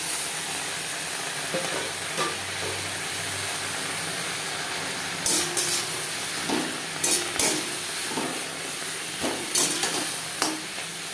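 Garlic, green chilies, cumin and black cumin dry-roasting in an unoiled pan, then elephant foot yam leaves added for a Bengali vorta, with a constant hiss that gives way to a run of close, irregular stirring scrapes, no voices.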